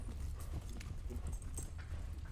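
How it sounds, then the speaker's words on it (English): Horses climb a steep trail cut into a mountainside, their hooves clip-clopping in a steady walking rhythm, close and fairly soft. "Wes and Colton ride their horses up a steep trail cut into the mountain."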